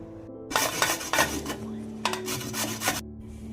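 Fresh raw turmeric root, washed and peeled, rubbed against a metal grater in a home kitchen: quick rasping scrapes in two bursts with a short pause between, close and fairly loud, no talking.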